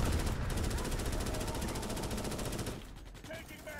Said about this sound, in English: Have a cluster grenade.